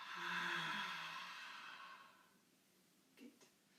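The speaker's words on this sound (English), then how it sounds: "Breathing in through the nostrils. Letting go through the mouth." A slow, steady breath let out through the mouth during a guided relaxation exercise, a soft airy exhale lasting a couple of seconds before fading into quiet, with a faint brief rustle afterward.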